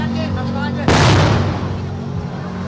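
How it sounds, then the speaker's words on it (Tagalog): A large firecracker stuffed in a plastic bottle explodes with one sudden, loud boom that rolls off into a rumbling decay over street background noise. "may sinindihan pa silang isang malaking paputok na nakasilid sa plastic na bote"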